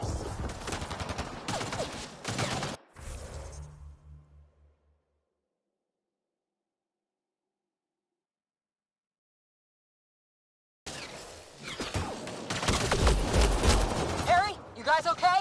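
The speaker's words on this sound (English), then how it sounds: "Just keep firing, we can do this!" Gunfire in Red Dead Online comes as loud clustered shots at the start and again near the end, separated by a long stretch of silence, with voices talking over the action.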